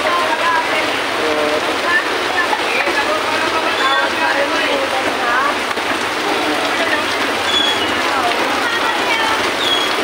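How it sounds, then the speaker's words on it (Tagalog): Heavy rain during Typhoon Enteng on Padre Rada Street in Divisoria, a dense continuous roar of downpour on surfaces with scattered drip detail, steady throughout, with someone speaking over it. "Grabe, lakas ng ulan."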